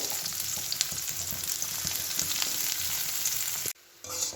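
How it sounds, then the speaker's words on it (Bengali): Sliced onions fry in hot oil for birista, a steady close sizzle with occasional stirring clicks that drops out abruptly near the end. "এবার এই তেলের মধ্যেই আমি একটু পেঁয়াজের বেরেস্তা ভেজে নেব"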